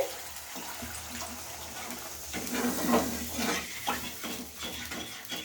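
Water splashes into a pan of curry on a home stove, with soft stirring and the clink of a utensil against the pan; the sounds are faint and close, with no talking.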